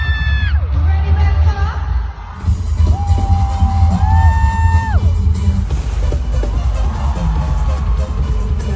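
A concert crowd in Bangkok screams and cheers loudly and continuously, with sustained shrill whoops rising over dense roaring noise, heard close and unbroken throughout.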